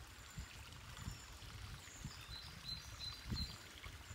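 A dirty, foamy woodland stream flows with a soft, low trickle and gurgle, faint and somewhat distant, with light outdoor ambience and occasional bird-like chirps above it.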